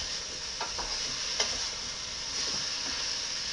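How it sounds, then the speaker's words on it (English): Vegetables for a Hungarian pea soup sauté and sizzle in a pot, a steady crackling hiss with a few soft stirring knocks, close by and alone. "It's really sizzling now."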